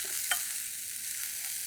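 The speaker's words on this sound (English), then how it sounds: "Just a nice quick saute" Yellow peppers and garlic sauté in a hot pan with a soft, steady sizzle and a brief stir or scrape near the start, fairly quiet and with no voices.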